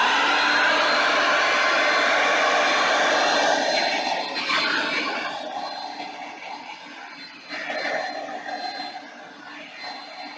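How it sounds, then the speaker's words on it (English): A steady, loud whooshing blast of a blow dryer runs continuously, easing slightly midway and surging again near the end, with no talking. "blow dryer"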